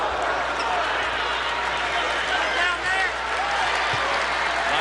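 Applause from the crowd at an NC State college basketball game spreads through the arena as a steady, even wash, moderately loud but a little distant, with a commentator talking over it.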